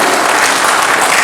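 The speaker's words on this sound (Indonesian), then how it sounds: "Tepuk tangan dulu pada diri saya." An audience at a government gathering in Gorontalo Regency, Indonesia, breaks into loud, dense applause, a close, continuous wash of many hands clapping for the whole moment.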